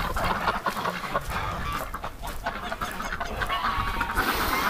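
Chickens and geese on a farm call in a steady, layered stream of clucks and honks, close by and continuous over rumbling outdoor background noise, with no one talking.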